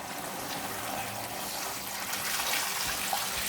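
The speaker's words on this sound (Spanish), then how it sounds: "Luego de haber echado los víveres, procedemos a echarle agua." Water pours steadily into a large sancocho pot already holding root vegetables, a continuous close splashing rush that swells toward the end, with no voices.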